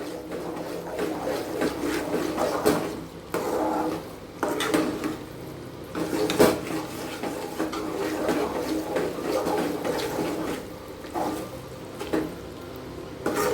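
Coconut burfi mixture being stirred in a pan over raised heat, a steady scraping and clinking of a spoon against the pan with soft thick bubbling, continuous and close.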